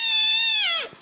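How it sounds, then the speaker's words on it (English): A kitten meowing in an internet video played over a radio show, one drawn-out, loud, high meow that slides downward and fades out within about a second. "He's meowing."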